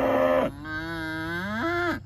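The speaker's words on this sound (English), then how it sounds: "let's get these cows moved to some fresh grass" A cow on a grazing farm gives one long, loud, close moo that slides up and then falls, with no other voices nearby.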